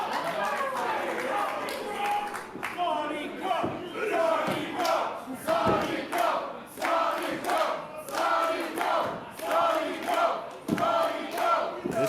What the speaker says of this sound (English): This crowd continues to be electric towards Sonico.